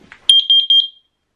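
A water leak alarm beeps rapidly, high-pitched and electronic, about six times in a quick, even pulse, close and clear, then stops.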